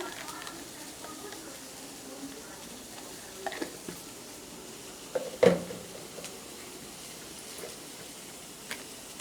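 Soybean chunks frying in a pan, a soft continuous sizzle in the background with a few scattered clicks and one louder clatter near the middle.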